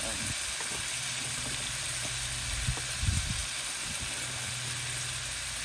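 Bacon frying on a grill set to medium gives off a steady, moderate sizzle and hiss with a few soft knocks and scrapes along the way.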